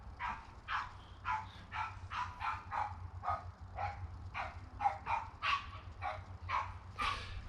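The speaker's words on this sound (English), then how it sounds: "there's a barking dog." A dog barks in a steady run of about a dozen sharp barks at a fairly regular rhythm. The barking is moderately distant, with a low background hum underneath.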